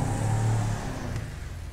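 A Mammoth Patriot Stretch in GTA 5 revs through its exhaust. One short engine rev swells and then fades to a low idle hum, with no speech over it.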